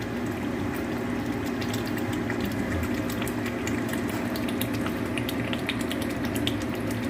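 Mutton and onions cooking in a pan for mutton kasha give off a steady, even simmering sizzle with small crackles and pops throughout. There is no talking.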